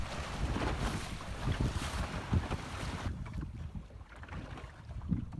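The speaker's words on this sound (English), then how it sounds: "We then sail out of the Havre Rotteneuf into a fairly lumpy sea" Sailboat pushing through choppy sea out of Havre Rotteneuf, with steady wind rush and hull slaps, loud and continuous, the noise easing partway through.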